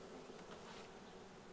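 Dense, steady buzzing of many honey bees close by in an open hive, a soft continuous drone without pauses.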